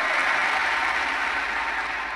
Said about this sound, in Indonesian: Tepuk tangan dulu kaum bapak.